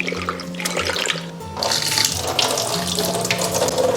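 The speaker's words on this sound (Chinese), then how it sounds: "然后先倒入清水淘洗干净" Tap water runs steadily into a bowl as dried seafood ingredients are rinsed, a close, continuous splashing flow with shifting gurgles and no talking.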